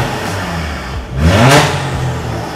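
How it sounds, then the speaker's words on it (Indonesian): A Mercedes-Benz E-Class Cabriolet V6 revs inside a showroom with its exhaust valve open, the engine rising into a loud throaty blip that peaks and settles back to a rumbling idle, close and without talk. "Sekarang kita on-in nih knalpotnya."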